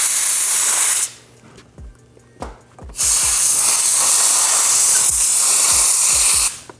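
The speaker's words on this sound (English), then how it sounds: "I have my compressor ready to go" An air compressor blows loud, close bursts of hissing air while a custom grip is fitted onto a BMW M1000RR motorcycle handlebar. Two long blasts sit either side of a short gap, with low thumps between them.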